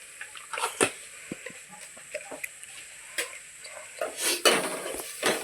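A spoon scraping and tapping in a pan of chicken drumstick curry as coriander powder is stirred in, giving irregular close clinks and scrapes over a steady background hiss.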